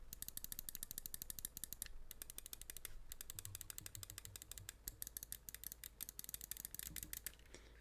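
Rapid, dense mouse-button clicking from a HyperX Pulsefire Haste, right and left buttons pressed in fast continuous bursts, crisp and close with only brief pauses, no voices.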